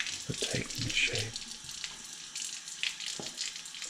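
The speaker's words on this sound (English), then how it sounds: "And beginning to fill this sink with water." Water runs from a tap into a sink being filled for washing dishes, a steady splashing flow with a few clinks and knocks, close and moderately loud.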